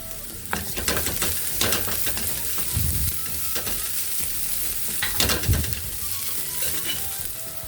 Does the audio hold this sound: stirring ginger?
yes